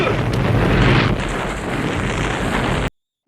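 A helicopter explodes in the action film Rambo: First Blood Part II, a loud, booming blast that rolls into a roaring rumble before cutting off abruptly into silence.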